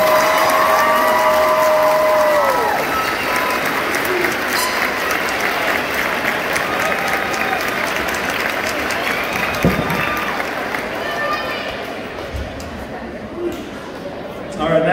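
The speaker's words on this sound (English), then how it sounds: "Let's give these guys a round of applause." Audience applause at an 8th grade middle school graduation ceremony, sustained clapping from a large crowd that slowly fades over about fifteen seconds, with some voices and a brief tone under it.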